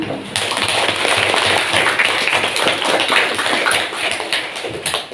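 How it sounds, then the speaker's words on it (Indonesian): Steady crowd applause at a religious talk fills the space, a dense wash of many hands clapping at a constant loud level throughout. "Tepuk tangan."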